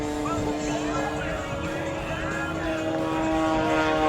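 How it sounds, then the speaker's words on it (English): A stunt plane's propeller engine drones steadily overhead at an outdoor air show, its sustained buzzing tone shifting slightly as the aircraft maneuvers, loud and continuous throughout. "He literally had the plane hovering upside down like a helicopter."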